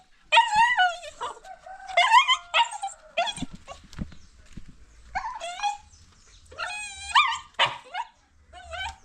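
A dog eager to go outside barks, yips and whimpers in rapid excited bursts close by, loud and insistent with brief pauses throughout.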